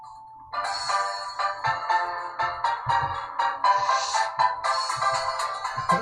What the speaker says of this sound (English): Let's do music from Contraption Maker.